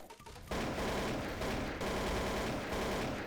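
Pistol fire in Counter-Strike Source, a rapid burst of shots that begins abruptly after a short quiet lead-in and continues as dense, loud, near gunfire to the end.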